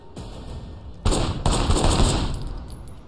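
Gunfire in the video game Sleeping Dogs, loud rapid bursts of shots kicking in after a quieter opening, with a sharp report and then a sustained stretch of overlapping fire that gradually tapers off.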